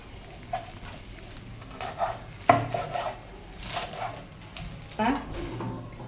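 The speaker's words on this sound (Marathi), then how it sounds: "अशी बारीक कापून घ्यायची" Spinach being finely chopped with a knife on a board, a few distinct close chops and knocks scattered among quiet kitchen handling, with a voice talking nearby.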